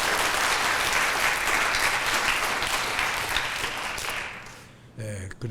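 A church congregation claps loudly and steadily for about four seconds, the applause fading out and giving way to a brief bit of speech at the end.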